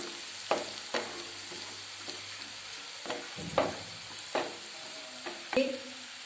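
A spoon stirs a tomato fry with pepper powder and turmeric in a pan, giving several distinct scraping knocks spaced about half a second to a second apart over a soft, steady sizzle.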